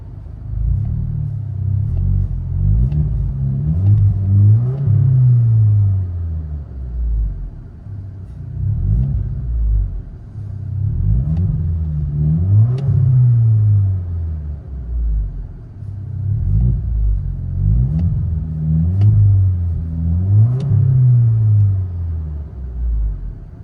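From inside the cabin of a 2019 Alfa Romeo Giulia 2.0L turbo with muffler delete, a muffled exhaust drone repeatedly swells through revs and settles back, in a steady rise-and-fall rhythm.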